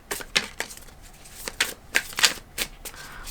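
Tarot cards are drawn and shuffled in a run of quick, crisp riffles and flicks, about eight sharp bursts close by, with faint room hush between them.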